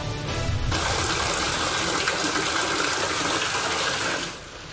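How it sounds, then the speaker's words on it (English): Water gushing from the ceiling into a small business in downtown Detroit: a loud, dense, continuous splashing roar that swells in and fades near the end, close by and without speech. "Water gushing from the ceiling, taking its toll on the brick and mortar of a small business."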